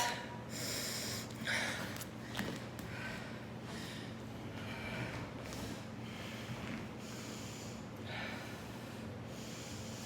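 Deep, audible breaths through the nose during a yoga pose, a few long rhythmic inhales and exhales over a steady background hiss.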